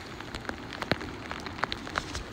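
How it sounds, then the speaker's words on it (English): Rain begins pattering on a hilltop, scattered drops ticking and tapping irregularly over a steady soft wash, close and moderately loud. "And it starts raining when we get to the top."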